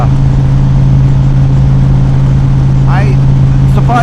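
A Stage 2 Harley CVO motorcycle rides along Storm King Highway, giving a loud, steady engine drone with a strong low hum and rushing wind throughout.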